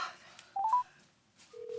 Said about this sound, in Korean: 지금 전화해서 물어볼래.